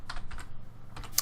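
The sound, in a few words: typing a query on a computer keyboard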